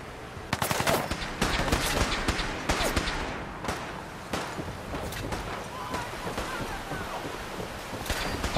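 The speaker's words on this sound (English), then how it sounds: "Are you really shooting the Brotherhood right now, and they're helping us?" Fallout 4 gunfire, with bursts of rapid shots and single cracks in a firefight, some loud and close and others more distant. A steady windy hiss runs underneath.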